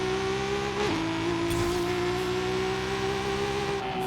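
A Toyota Supra 2.0 GT MK.3 with a 1270 hp 2JZ drag tune roars off the line in the racing game Forza Horizon 5, its engine note steady and loud with a brief dip as it launches, then droning on.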